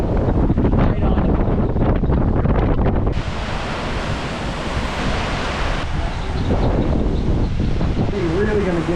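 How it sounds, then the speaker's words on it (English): Strong hurricane wind during Hurricane Milton roars loudly and continuously against the microphone, a dense rushing blast that shifts in intensity, with a person talking faintly beneath it. "We're really gonna get those bands of wind."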